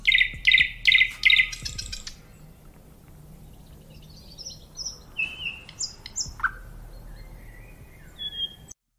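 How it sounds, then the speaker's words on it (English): Bird chirps and tweets: a quick burst of bright, close calls in the first two seconds, then scattered fainter chirps and whistles over a quiet background. "a bird."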